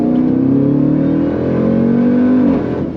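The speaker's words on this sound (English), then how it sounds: "it makes a really cool sound when it changes gears" A 2018 Jeep Grand Cherokee Trackhawk engine pulls hard and loud, its pitch rising steadily under acceleration before a quick drop as it shifts gears, heard from inside at close range.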